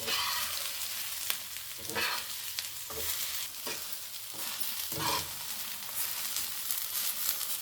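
Sliced okra fries in a pan with an ongoing sizzle, broken by periodic scraping bursts as a spoon stirs and turns the pieces every second or so.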